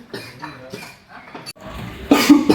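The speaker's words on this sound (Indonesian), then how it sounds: "datang dengan batuk-batuk" A man, Pak Ridwan, coughs in a staged Indonesian drama scene about health, with several rough coughs close by mixed with his voice, ending in a louder harsh burst.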